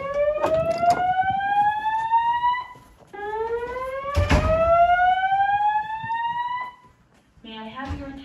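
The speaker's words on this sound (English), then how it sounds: "This is a test of the fire alarm system." An engineering building's fire alarm sounds during a test, two long rising whoop sweeps, loud and close, with sharp clicks and a brief tone burst at the end.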